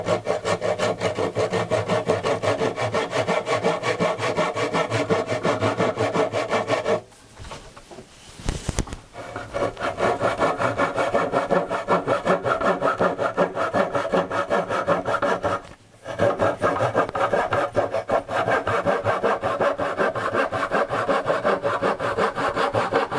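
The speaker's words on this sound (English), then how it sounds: "this has been gluing most of the afternoon, so I'm just going to cut this off" A hand saw cuts off glued wood during a small table repair, with fast, steady rasping strokes close by that pause briefly twice before resuming.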